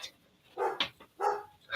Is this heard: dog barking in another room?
yes